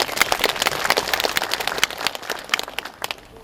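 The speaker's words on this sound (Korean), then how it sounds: "그 뒤에서 그 고생하시는 우리 행정요원들에게 박수 한번 부탁드리겠습니다." An audience at a building-completion ceremony for an administrative and cultural center in Cheongsong gives a short round of applause, a dense patter of many hands clapping that tapers off near the end.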